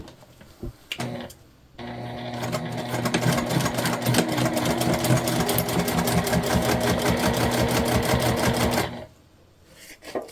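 Sewing machine stitching a crossbody bag, a loud, fast, steady mechanical rattle running for several seconds after a few short starts, close by, then stopping abruptly.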